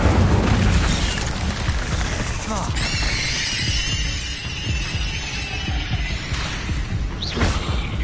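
The Incendio fire spell is cast in Hogwarts Legacy during a fight with spiders, bringing loud booming whooshes and fiery bursts with shrill squeals and crackles over a dense, continuous game soundscape, with voices shouting spell names.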